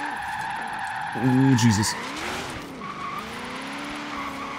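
A car drifts in Forza Horizon 3, its engine droning with rising and falling pitch while the tires squeal, and someone speaks loudly over it for a moment.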